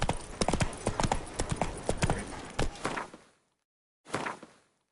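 Roach the horse trots in The Witcher 3, hooves clip-clopping in a quick, steady rhythm of many close hoofbeats for about three seconds, stopping abruptly, then a short final burst of hoof and movement sound.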